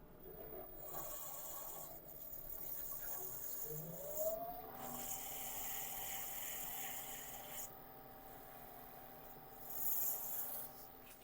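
Laburnum wood turning being sanded on a lathe, a steady close rasping rub over the hum of the spinning lathe, with a rising motor whine partway through.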